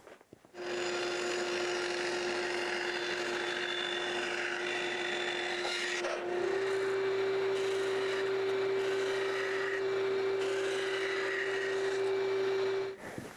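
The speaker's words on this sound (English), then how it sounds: "and then I'll shape it on a sander." A wooden mold template for a side bender is shaped on a power sander, giving a steady, loud, continuous machine whine with a constant tone and abrasive rubbing throughout, the pitch shifting slightly midway.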